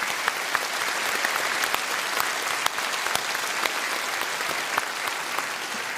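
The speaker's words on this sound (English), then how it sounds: "Just a round of applause for them before we move on." Dense applause from a crowd at a Reform UK campaign rally, steady and even with scattered sharper claps on top, moderately loud and without talk.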